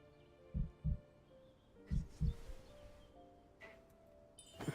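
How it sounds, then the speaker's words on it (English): Slow heartbeat thumps, two double lub-dub pairs near the start and a fainter one later, in a quiet scene with soft background tones. "Why am I hearing a heartbeat?"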